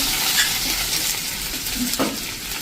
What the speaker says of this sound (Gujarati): અને આપણે 5 થી 7 લીમડાના પત્તા નાખી દઈશું।